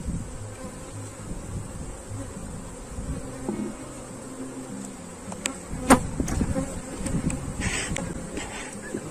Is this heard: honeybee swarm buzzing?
yes